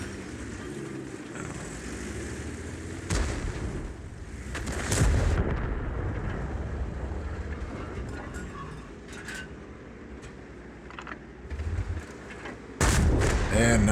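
Tank guns boom in World of Tanks, fired by and at a Skorpion G tank destroyer in a town map: several sharp, heavy blasts, about three main shots, spaced apart over a steady rumbling battle backdrop.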